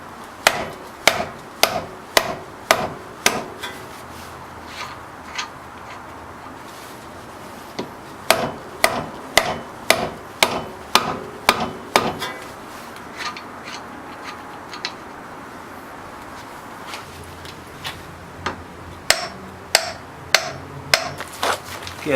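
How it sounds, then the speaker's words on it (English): A CV drive axle is hammered through the wheel hub during an axle change, heard as repeated close, sharp metallic blows in quick bursts with brief pauses between the runs. "Loosen it a bit more and then hammer it through more."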